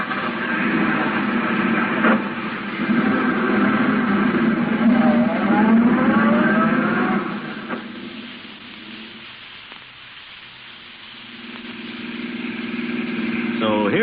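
A taxi cab's engine revs and the car pulls away to follow a gray sedan, the motor loud and steady at first, then dropping lower before rising again, with voices talking over it.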